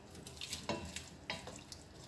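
Shrimp hitting a pan of butter and garlic give a soft, steady sizzle and crackle with occasional stirring scrapes. The frying is quiet and fairly close, with no talking.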